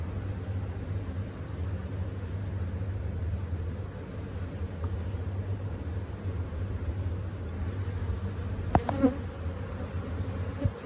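Steady insect buzzing from many honey bees at a hive fills the clip, a continuous low drone close by, with a brief clatter near the end.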